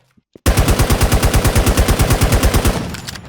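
AUG rifle gunfire in a video game, a close, loud, steady automatic burst of about two dozen rapid evenly spaced shots that cuts in abruptly after a couple of faint clicks and trails off at the end.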